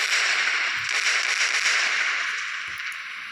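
Bombs explode in the Indian Bike Driving 3D video game, a loud continuous crackling barrage of rapid blasts and pops with a couple of deeper thuds, fading slightly toward the end.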